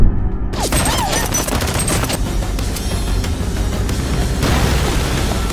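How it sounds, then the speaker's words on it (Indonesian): Dense gunfire and explosions in an action film sniper fight fill the scene, with rapid overlapping shots, booming blasts and a constant loud rumble of battle, no voices on top. "Zhang menembak balik dan pria itu adalah sniper yang menyerangnya"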